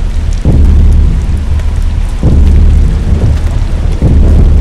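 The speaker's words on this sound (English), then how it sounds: "The storm's a lot worse than the blizzard." A storm in the horror video game Slender Rising 2, with heavy constant rain and repeated deep thunder rumbles rolling in about every two seconds, loud and close with no talk.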